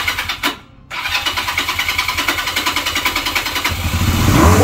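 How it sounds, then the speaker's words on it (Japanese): A carbureted engine in poor running condition is cranked and fires up: a short pause, then a steady close-up chugging pulse that swells louder toward the end. No voices are heard. "エンジンかけて"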